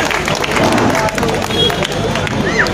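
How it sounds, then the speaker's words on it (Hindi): A crowd at a political rally in Govandi claps and cheers to welcome a speaker, a dense burst of applause and babble close around, with voices mixed in. "जोरदार तालियों से स्वागत कीजिए"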